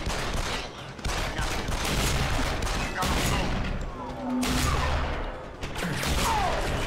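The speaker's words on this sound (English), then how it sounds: "minigun's back" Sustained minigun fire in Deus Ex: Human Revolution, a dense continuous roar of rapid gunshots with explosive bursts, loud and filling the whole clip amid game noise and voices.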